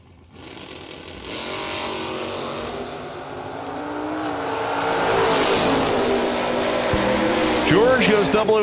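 A Corvette and a Camaro launch side by side at a drag race, engines roaring and rising in pitch as they accelerate hard, loud and building steadily, with an announcer's voice talking over them.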